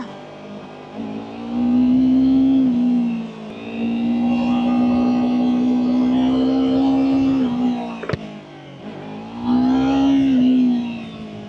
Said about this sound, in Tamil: அதான் இந்த பைக்கு வந்து இப்போ ஃபர்ஸ்ட் ரைடு, அதான் பொறுமையாக ஓடணும்.